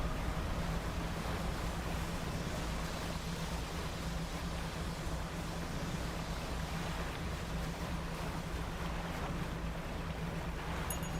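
Ocean waves in the fishing game Dredge make a continuous, even rush of surf and wind noise with a low engine-like hum underneath, steady throughout with no voices.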